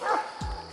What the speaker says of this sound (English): Hey there, doggy. You go on home now.